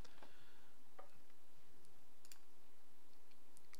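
Typing on a computer keyboard makes faint, sparse, irregular clicks and taps in a quiet room.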